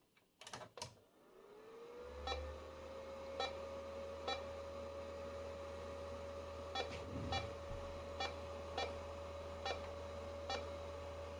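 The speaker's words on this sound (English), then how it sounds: "It's going beep." Stanford Research SR850 DSP lock-in amplifier from 1992 at first power-up, giving a clean steady beep tone after a brief switch-on thump, with faint regular clicks ticking along beneath it.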